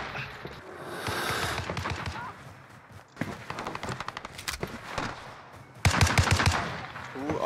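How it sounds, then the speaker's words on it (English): Sniper and rifle fire during a Warzone Rebirth multiplayer match, with sharp cracking shots arriving in clustered bursts, some faint and distant and others louder and closer, over quiet in-game ambience. "I'm getting sniped from the backside too."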